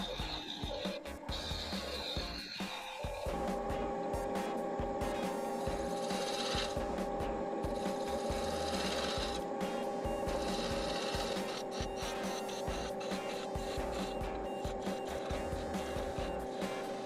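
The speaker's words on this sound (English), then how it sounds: "I will use the spindle gouge to take some of this mass away" Spindle gouge cutting a wooden Christmas ornament turning on a lathe at 750 RPM, a steady close rasping scrape over a constant machine hum that runs without a break for the whole stretch.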